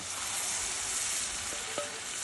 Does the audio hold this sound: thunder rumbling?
no